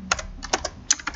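A password typed on a computer keyboard: several quick clusters of close, crisp keystroke clicks with short pauses between them, no voices.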